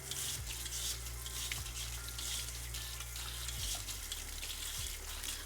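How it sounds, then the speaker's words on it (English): Tap water running steadily into a sink while a microplane grater is rinsed, a continuous hiss of flowing water broken by a few faint clunks of the metal tool, heard close with no talking. "I'm gonna go ahead and wash up my microplane"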